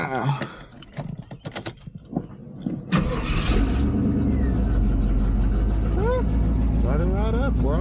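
Keys jangle and rattle near a classic car before the engine cranks and catches with a loud burst, then settles into a steady, close, rumbling idle while a voice briefly speaks over it.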